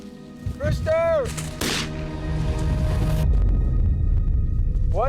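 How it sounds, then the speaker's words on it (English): A loud shotgun blast booms outdoors while pheasant hunting in Dakota and rumbles away, with a rooster pheasant call just before and after. "One shot, Scott!"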